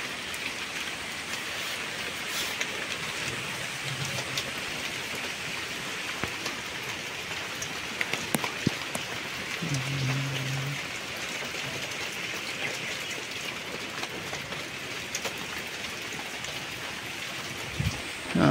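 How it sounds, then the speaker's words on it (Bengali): Steady rain falls in a village, a dense, even hiss of drops on surfaces that continues throughout, with a few faint distant sounds and clicks in the background. "বৃষ্টির মধ্যে আর ভালো লাগে না"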